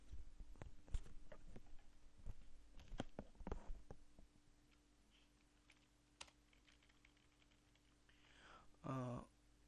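Typing on a computer keyboard, bursts of quick clicking keystrokes for about four seconds, then sparse isolated taps and a short voiced sound near the end.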